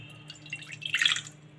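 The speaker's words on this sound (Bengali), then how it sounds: "এবার কড়াইয়ের মধ্যে দিয়ে দিচ্ছি জল" Water is poured into a wok before boneless chicken is boiled in it, a brief faint splash with dripping peaking about a second in, over a low steady kitchen hum.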